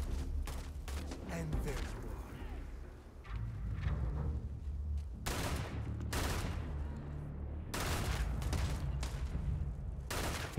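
Gunfire from a weapon in the video game Starfield, several loud bursts of rapid shots with gaps between them over steady game background noise, while a person talks at times.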